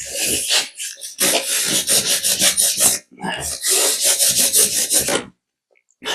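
A zombie knife saws and scrapes at product packaging, a close, loud rasping with quick repeated strokes in two long runs broken by a brief pause, ending in silence.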